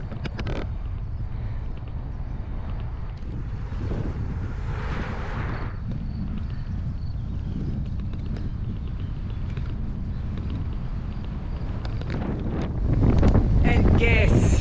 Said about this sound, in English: guess where the wind is coming from? From the bad weather thing, from the bad weather front.